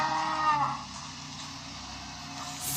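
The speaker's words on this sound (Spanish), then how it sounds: "¡Sí! ¡Es la vaca!" A cow moos in one long, steady, low call that carries on for nearly three seconds, loud and near, with no voices over it.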